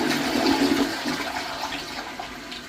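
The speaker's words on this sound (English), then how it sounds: "I'm going to flush it." A household toilet under repair for a running flapper and loose tube is flushed, giving a loud, close rush of swirling water that slowly tapers as the bowl drains, with no talking.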